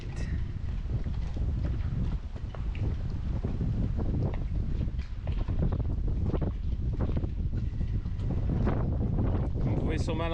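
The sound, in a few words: wind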